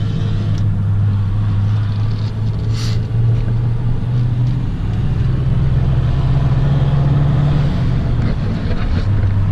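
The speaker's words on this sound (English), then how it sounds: "Now this thing is so loud. I'm sure you guys can hear it." Loud Pontiac GTO drift car engine at an event, a heavy continuous low rumble with steady droning tone and wind buffeting throughout, close and dominant.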